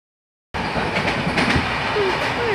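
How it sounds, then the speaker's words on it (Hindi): A passenger train in India rolls along the tracks close by, its loud rumble and rattle cutting in abruptly after a moment of silence and then continuing steadily, with a brief wheel squeal near the end. "और ये मेरी ट्रेन भाई जा रही है, मैं आगे जाके चढ़ जाऊँगा।"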